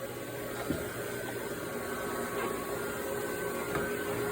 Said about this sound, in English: Now we are buffing up the wax.